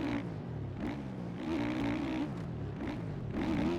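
Engine of a 450F dirt bike in the MX Bikes racing game, a steady buzzing drone that rises and falls with throttle, revving up in repeated surges without any pauses.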